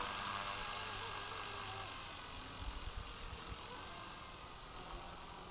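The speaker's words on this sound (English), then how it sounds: "Been a long time since I've flown a helicopter." A steady high-pitched whine of a radio-controlled helicopter's motor and rotor fills the clip, holding constant throughout with some wind rumble underneath.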